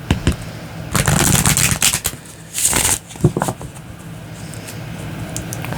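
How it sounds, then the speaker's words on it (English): Tarot cards are shuffled in a few quick riffling bursts, crisp and close, with short pauses between them. "One more shuffle, and then we will cut the deck."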